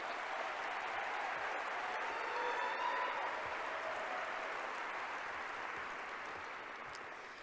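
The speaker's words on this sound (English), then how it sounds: "Let's give her a big round of applause." Sustained applause from a crowd at a foundation annual meeting, an even, continuous clapping roar that holds steady and tapers slightly at the end, with faint voices underneath.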